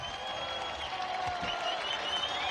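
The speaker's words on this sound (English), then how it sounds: "Listen to the crowd here in the background." Crowd noise from a college basketball game heard over a Nebraska radio network broadcast, a steady loud roar of cheering and applause filling the whole moment, with no clear talk on top.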